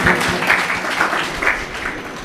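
A religious discourse audience claps steadily for a couple of seconds, a loud, close wash of many hands with small surges in intensity and no talking over it.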